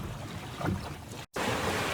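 A sailboat moving through the water in a freshening breeze between Airlie Beach and Lindeman Island, a steady wash of water and wind noise broken by a brief dropout.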